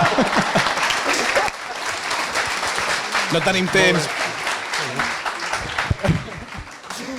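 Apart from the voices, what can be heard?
audience applause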